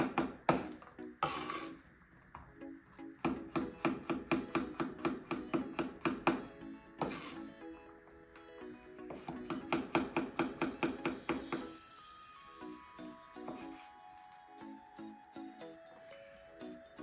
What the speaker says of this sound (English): chop up your garlic.